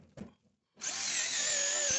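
A power polisher spins at 7,800 RPM on a car headlight. After a short quiet gap it starts up into a steady, close, high whine that holds evenly to the end.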